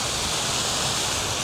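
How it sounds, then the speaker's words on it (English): A waterfall in Florida roars as a steady, dense wash of falling water, loud and unbroken throughout, with no voices over it. "hanging by a glorious waterfall. Who says there's not waterfalls in Florida?"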